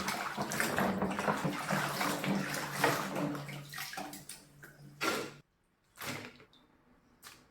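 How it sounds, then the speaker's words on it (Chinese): Edamame soybeans are swished and rinsed in water, giving continuous close sloshing and splashing that breaks into a few separate splashes with short silences near the end. "再多清洗几遍"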